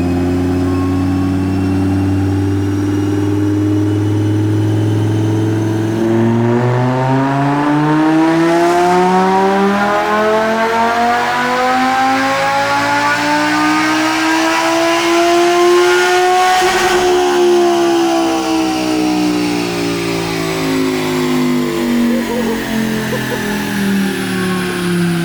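Supercharged Lamborghini engine revving on a dyno indoors, a loud sustained roar sweeping up through the gears over about twenty seconds, with a sharp shift crack, then settling and climbing again.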